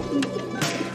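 Pigeons in an Egyptian pigeon loft coo softly in short, close calls over a low background hum.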